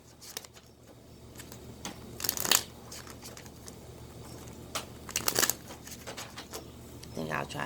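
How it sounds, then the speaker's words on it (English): Tarot cards are shuffled in a few quick riffling bursts against a quiet room, with soft handling noises between them and a voice speaking lightly in the background. "3 more shuffles."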